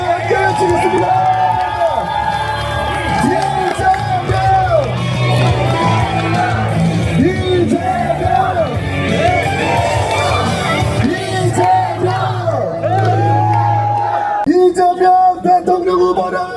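Large outdoor election rally crowd at a train station plaza shouting and chanting together in a loud, continuous roar with whoops and yells, a sharper burst of cheering near the end.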